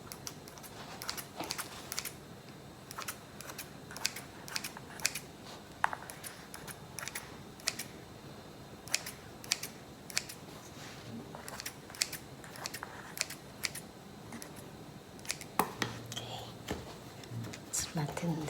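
Scissors snip around the edges of an egg pie crust, giving crisp repeated cuts at an uneven pace, close by and moderately loud, with a person speaking briefly.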